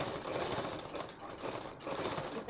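A sewing machine runs steadily while stitching the piping seam of a designer blouse, a continuous close-up mechanical whir with a slight dip in pace midway and no voices.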